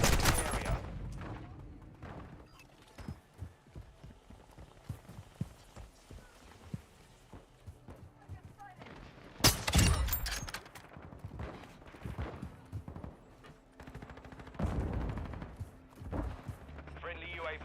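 Gunfire in a Call of Duty-style multiplayer match: scattered shots and rattling automatic bursts, with one loud volley midway and more clusters later, under a mix of game announcer callouts and a talking player.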